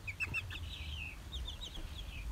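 Soft clucks and chirpy calls from six-week-old KUB chickens being weighed come in short scattered bursts over a quiet, steady background hiss.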